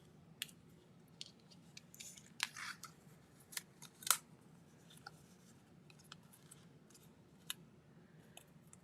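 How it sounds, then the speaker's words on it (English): Scissors snipping through craft foil, a series of sharp crisp cuts scattered irregularly over a quiet room tone, with one louder snip in the middle. "My scissors are garbage."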